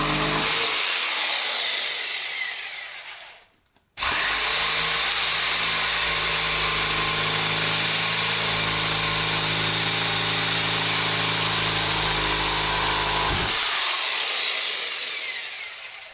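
A power saw cuts into material during work opening up the roof around a brick fireplace in a house. The loud, sustained whine runs for several seconds, stops briefly, then starts again for a long steady cut with no talking.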